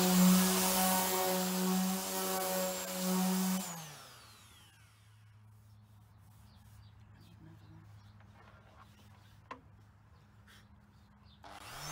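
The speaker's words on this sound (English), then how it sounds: "Now sanding the top of the table" Steady, loud power-sanding hum on a varnished wooden table top for about four seconds, then the machine winds down and stops, leaving quiet room noise and a single faint tap.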